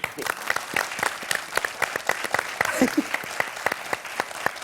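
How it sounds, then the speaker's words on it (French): A television quiz show studio audience claps steadily, a dense patter of applause that continues throughout, with a brief voice rising under it midway. "Est-ce qu'on peut applaudir ce monsieur,"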